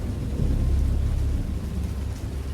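A deep thunder rumble used as a sound effect during a spoken story swells loudly, then slowly fades while still rolling. It stands alone, with no voices.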